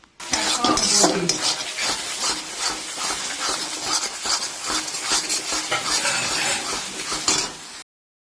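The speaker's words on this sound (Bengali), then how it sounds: "এইবারে কখনো হাই ফ্লেমে কখনো স্লো ফ্লেমে এটাকে সামান্য পরিমাণ একটু জল দিয়ে কষে নিতে হবে" Spiced masala with chicken gizzard sautéing in a pan over shifting high and low flame, with a little water added, giving a steady close hiss and sizzle with occasional clinks of a utensil against the pan.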